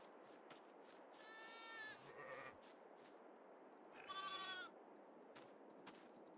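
Two distinct sheep bleats, one after another with a pause between, wavering and moderately close over faint background noise.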